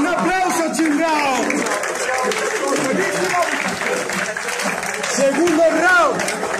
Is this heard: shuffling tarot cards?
no